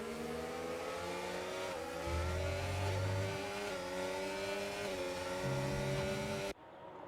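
Formula racing cars in a British Grand Prix round of a racing video game, engines whining and revving as they accelerate and shift through gears, a steady loud drone that cuts off abruptly near the end.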